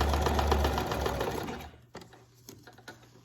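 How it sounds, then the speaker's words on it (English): A sewing machine stitches around paper and real feathers on a junk journal page, a loud, steady rapid whir that runs close up for a second and a half, then stops, leaving soft handling noises. "Go ahead and sew around so you can see it."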